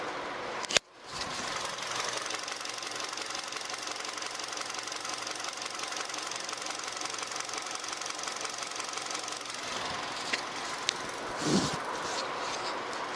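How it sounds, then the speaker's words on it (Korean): Engine of a used Kia Soul 1.6 CVVT running at a steady idle close by, a smooth even hum that continues alone after a brief sharp click near the start, with a few faint taps toward the end. "지금부터 엔진 소리 한번 들려드리도록 하겠습니다"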